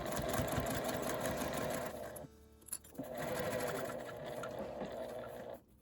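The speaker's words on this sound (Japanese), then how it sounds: "ちょっと段ボールがあって縫いにくいですが、ゆっくりで良いので上端を縫います。" Sewing machine stitching slowly along the top edge of a fabric tablet pocket with a cardboard insert, a steady close whirring run that pauses briefly near the middle before resuming.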